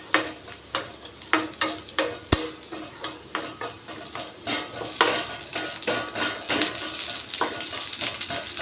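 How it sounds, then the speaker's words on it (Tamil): Vegetables sautéing in oil in a pan, a rhythmic series of scraping stirs roughly every third of a second over a soft sizzle, close up, with one sharp metallic clink of a spoon on the pan and no voices. "இந்த அளவுக்கு ஓரளவு நல்லாவே வதக்கிக்கணும்."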